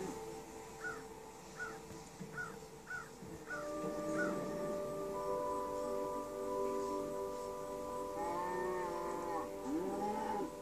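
Cow mooing in Minecraft on the PS3 edition, a long drawn moo with a second lowing call at the end, heard at moderate distance over game ambience, after a run of short repeated bird-like caws.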